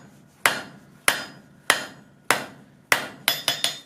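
Hot steel for a forged calla lily is hammered over an anvil horn, with sharp, ringing close blows at a steady pace that speed up into a quick triple strike near the end.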